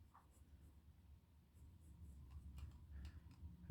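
Pencil sketching T-rex claws on paper: a faint, soft scratching of graphite strokes running through the quiet, with a slightly louder touch near the end.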